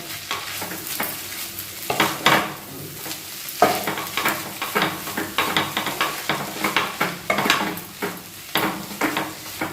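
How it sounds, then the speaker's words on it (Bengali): Egg chicken chow mein is tossed with sauce in a frying pan, giving a steady sizzle under repeated scraping and clattering strokes of a utensil against the pan, close up and rhythmic. "এই যে আমি সসটা বানিয়েছিলাম এটা দিয়ে দেবো সসটা দিয়ে এবার ভালোভাবে সেটা মিশিয়ে নেব"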